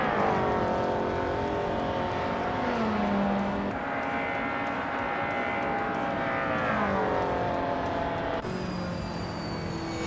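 Race cars, including an Alfa Romeo 156, roar through a racing video game, their engines whining steadily and rising and falling in pitch as cars shift gears and pass, with continuous layered engine noise throughout.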